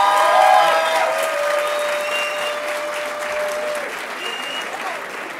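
Audience applause at a graduation ceremony for a Commercial Management and Marketing class, a steady loud crowd clapping with cheers and whistle-like tones rising over it.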